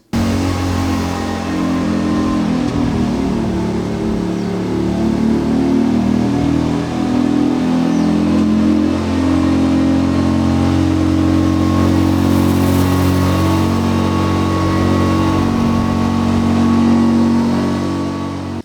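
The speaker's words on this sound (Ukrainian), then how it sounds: "До цієї мотопомпи тут bmw двигун двохклапаний, чотирьохтактний." A fire-fighting motor pump driven by a two-valve four-stroke BMW engine runs steadily and loudly close by, a continuous droning hum with no break from start to finish and no voices.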